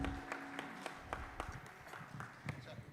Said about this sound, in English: A big round of applause for our presenter.